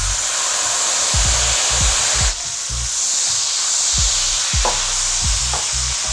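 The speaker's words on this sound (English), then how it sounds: "Gonna put a bit of white wine in here, maybe an ounce or two," Dry white wine hits rendered guanciale in a hot pan, producing a loud, steady hissing sizzle with intermittent low bumps and stirring noises, close up.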